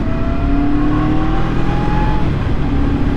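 A QJ SRV600 V4 four-cylinder custom motorcycle engine pulling under acceleration, a steady, close, rising engine note with smooth whine and no talking.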